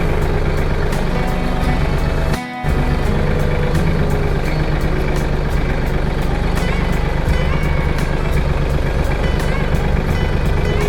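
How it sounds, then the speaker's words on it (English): A Mahindra Max 26 XLT subcompact tractor engine runs steadily nearby, a loud continuous diesel drone with a brief dip partway through and no voices over it. "Because there's still a lot of tractor in the background."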